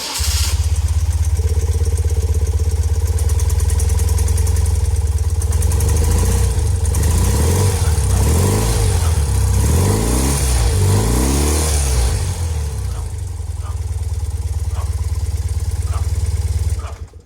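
A vintage motorcycle engine idles loudly and steadily up close, then revs in several rising and falling swells before settling back to a rough, even idle.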